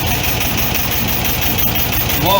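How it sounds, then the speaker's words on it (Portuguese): A Volkswagen Beetle engine fitted with twin Solex 32 PDSI carburetors idles nearby with a steady, throbbing rumble, while its speed is being adjusted. "Note que a rotação do motor vai subindo."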